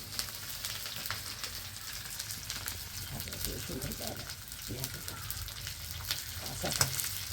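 Chopped onion and garlic fry in oil with a dense, even sizzle heard close up. Irregular stirring and spatula scrapes run through it.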